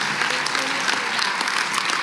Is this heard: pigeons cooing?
no